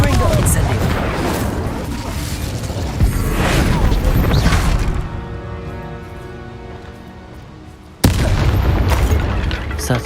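Confringo and Incendio fire spells blasting in Hogwarts Legacy: loud booming, crashing explosions layered over a dense battle din, then a brief low rumble before another loud burst at the end.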